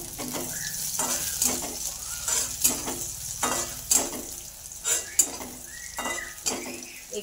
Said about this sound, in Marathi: त्याच्यामध्ये टाकते तर मिरच्या.